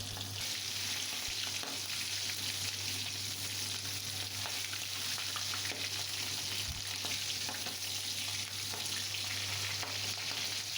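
Fish fries in hot oil in a covered pan, a dense continuous crackling sizzle that holds steady and loud with only faint shifts throughout.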